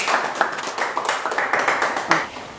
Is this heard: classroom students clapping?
yes